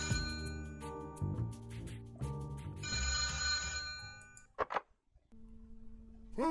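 A telephone rings inside a video game, a repeating electronic bell pattern layered over game music, then a brief clatter and a softer steady tone to close.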